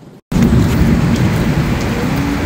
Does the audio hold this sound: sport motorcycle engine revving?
no